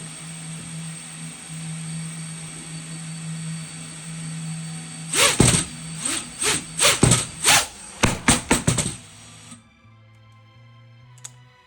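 Motors on a home-built FPV drone briefly spin up in a series of short, sharp whirring bursts over a steady background hum, then cut out into quieter low tones.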